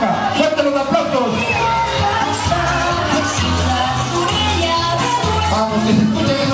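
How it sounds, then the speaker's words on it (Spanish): A school crowd claps and cheers at the opening of a sports event, with whoops and children's shouts over a steady roar and a loud voice talking through a PA over the din. "Fuerte los aplausos."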